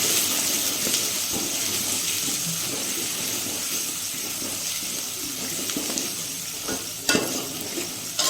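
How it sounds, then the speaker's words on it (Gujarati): Rice fried in a pan, stirred after turmeric is added, with a continuous close sizzle and scraping spoon strokes, plus a sharper clank near the end. "પાછું રીતે એને હલાવી દેવાની"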